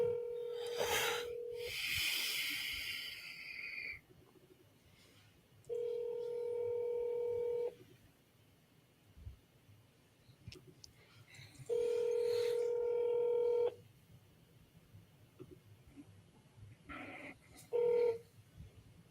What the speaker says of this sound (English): I'm calling Steven.